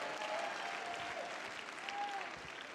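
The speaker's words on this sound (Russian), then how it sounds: "Такое свидетельство достойно ваших аплодисментов Господу." A church congregation applauds during an anniversary service, producing a soft, steady, fairly distant wash of clapping with a faint sustained tone drifting through it.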